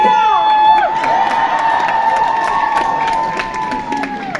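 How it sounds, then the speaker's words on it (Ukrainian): Concert crowd at a show in London cheering and whooping, with sustained high shouts and voices over scattered clapping, loud and close throughout. "Овації собі, скажіть собі"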